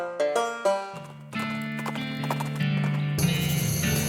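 Horse hooves clip-clopping in the West of Loathing video game, a quick run of hoofbeats over a bright musical score that swells and fills out partway through, no voices.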